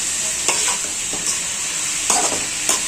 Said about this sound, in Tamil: போட்டு கிண்டிகிட்டே இருக்கணும் நல்லா லைட்டாக வதங்கணும்